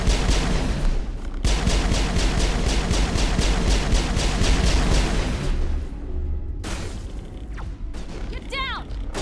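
Automatic weapon fire rattles in rapid, evenly spaced bursts during a Mass Effect firefight on Insanity difficulty, loud and close, giving way to heavier blasts and chaotic combat noise as a voice calls out.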